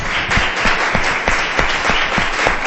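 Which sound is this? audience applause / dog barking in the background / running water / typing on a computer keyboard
audience applause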